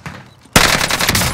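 Automatic gunfire in the battle royale video game Warzone erupts abruptly after a quiet moment, a loud, continuous rattle of shots close up, with no talking.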